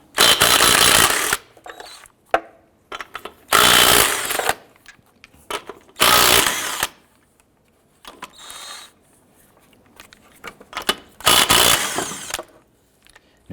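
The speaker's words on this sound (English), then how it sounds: "Using a 19mm socket, go ahead and remove the lug nuts." Impact wrench or power tool zips off lug nuts with a 19mm socket on a 2001-2005 Honda Civic wheel, four loud whirring bursts with quiet mechanical clicks and handling between them.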